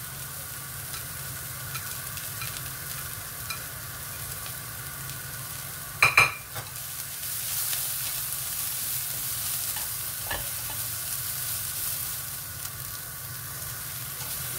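Carrots stir-frying in a pan for fried instant noodles: a continuous even sizzle with occasional stirring scrapes, one sharp metallic clank partway through, and a low steady hum beneath.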